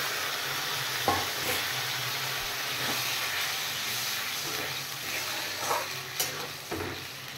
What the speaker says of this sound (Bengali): মশলা কষানো হয়ে গেছে, এবার আমি দিয়ে দেব ফেটিয়ে রাখা দই।